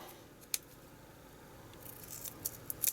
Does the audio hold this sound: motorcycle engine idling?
no